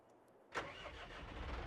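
An orchard tractor's engine in Farming Simulator 22 cranks and catches with a sudden loud start, then settles into a steady, close mid-pitched idle rumble.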